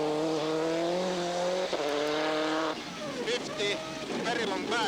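A Subaru Impreza WRC rally car runs a special stage at Rally Sweden 2000, engine revving and rising through gears under a voice reading pace notes.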